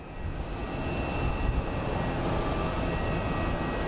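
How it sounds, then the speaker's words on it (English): A FedEx Boeing 767 jet at Phoenix Sky Harbor airport roars steadily and loudly, a broad continuous engine rumble filling the whole stretch with no voices. "And we have a FedEx 767."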